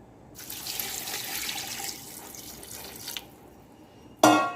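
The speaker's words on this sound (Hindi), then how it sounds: "अब मैं इसमें डाल दूंगी पानी" Water pours steadily into a cooking pot holding tomatoes, onion and garlic for a beef and lobia dish, a continuous splashing stream lasting a few seconds before it stops, followed by a sharp clink.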